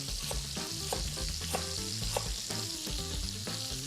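Meatballs fry in a pan with a dense, steady sizzle and crackle, punctuated by occasional louder pops and spits, close up and uninterrupted by talk.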